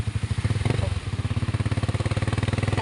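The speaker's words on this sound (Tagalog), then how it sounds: "Kasakay kami ngayon sa habal-habal, single motor." A habal-habal single motorcycle carries riders toward a hospital in Carigara, Leyte, its engine throbbing in a steady fast pulse, loud and close throughout.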